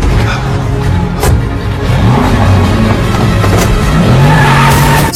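In a film scene, a car or truck is driven off with a loud engine roar, tire squeal and skidding, mixed over a steady dramatic soundtrack.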